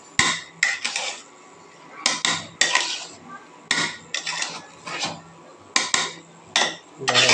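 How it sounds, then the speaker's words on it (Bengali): Chicken biryani stirred in a metal pot, a spoon scraping and clanking against the sides in repeated irregular bursts, close and fairly loud, with short quiet gaps between strokes. "এখন একটু নাড়াচাড়া করে নেব।"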